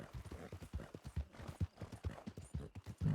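Horse hooves clip-clop in a steady, brisk rhythm inside the WildRP roleplay game, close and distinct, each hoof strike cleanly separated.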